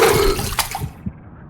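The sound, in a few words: splashing in water, from a video game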